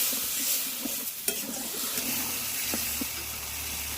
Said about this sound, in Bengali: মশলাটা কষিয়ে নেব, অল্প একটু জল দিয়ে দিলাম